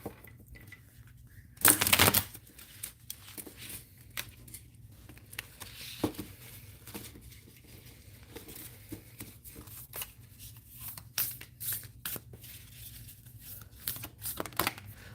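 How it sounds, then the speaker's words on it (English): Heart-shaped playing cards being shuffled by hand, one sharp riffling burst near the start followed by quieter intermittent shuffling taps and soft card rustles, close and fairly faint. "These are not the easiest cards to shuffle because they're heart shaped"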